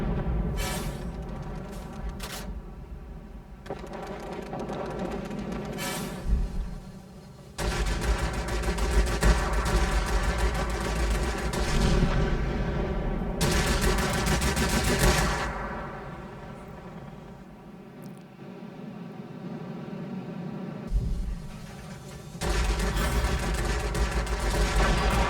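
Warplane machine guns firing in World of Warplanes, sustained loud rattling bursts that run for several seconds at a time with brief gaps between them, alongside a constant engine drone.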